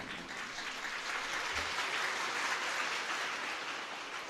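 An audience claps steadily for over four seconds at a Hindi spiritual talk about Mahadev, a dense, even wash of applause with no voices over it.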